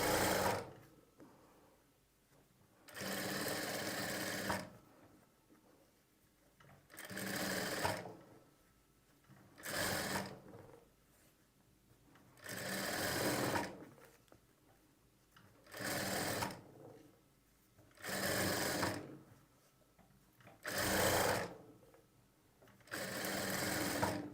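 A sewing machine stitches piping onto fabric in about nine steady bursts of rapid whirring. Each run lasts a second or two, with short quiet pauses between them as the work is straightened. It sounds close and clear, with no talking.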